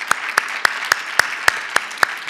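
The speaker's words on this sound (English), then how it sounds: "a round of applause for the speakers" A short burst of claps at a planetary boundaries and resilience conference session, evenly spaced single claps in a steady rhythm, close and clear, with no talking over them.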